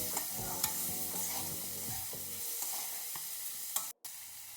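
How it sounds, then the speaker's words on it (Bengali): Onions fry in a pan for a fish paturi dish, with a steady sizzle, stirring scrapes and a few spoon clinks, then a sharp tap and a brief drop to silence near the end. "আমি দেখুন পেঁয়াজটা ভেজে নিচ্ছি।"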